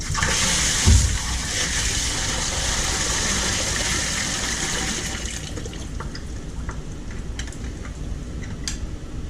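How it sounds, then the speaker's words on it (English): A loud gush of water pours out of a sump pump valve for about five seconds, then tapers to a quieter trickle and scattered drips over a low background hum. "Water is going to flow out of this thing."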